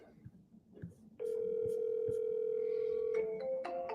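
A telephone call gives a steady electronic tone that starts after a second of quiet room noise and holds unbroken, then shifts pitch near the end just before the voicemail greeting. It sounds moderately faint.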